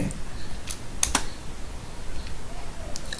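Rapid keystrokes on a computer keyboard while Python code is entered, a few sharp clicks clustered near the middle over a soft room background, with no talking.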